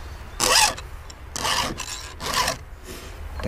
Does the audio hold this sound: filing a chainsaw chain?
yes